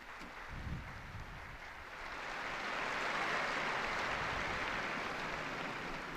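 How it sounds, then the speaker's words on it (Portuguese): A large outdoor crowd of faithful in Rome applauding newly beatified people at the Angelus, distant clapping swelling from a quiet start into a broad, sustained roar of applause. "Um aplauso aos novos beatos."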